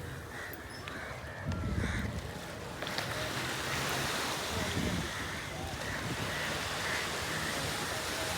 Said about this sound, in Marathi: मी आलेलो आहे आता मालवण बीचवरती